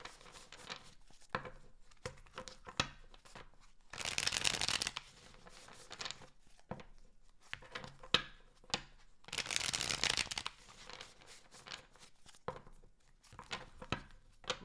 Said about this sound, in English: Last shuffle for super chat answers.